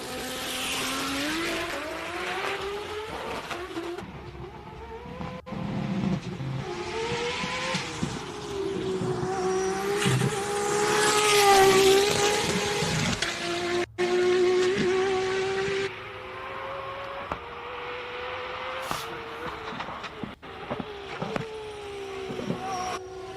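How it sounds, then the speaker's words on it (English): Race car at a hillclimb event, an extremely loud engine screaming through rising and falling revs with gear changes as it charges up the course, dominating the whole stretch with no talk. "It is the loudest car ever that you could ever hear."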